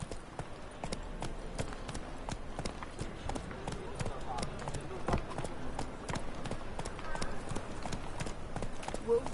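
Roach the horse galloping in The Witcher 3, a steady rapid clip-clop of hooves running throughout with game ambience and a voice talking over it.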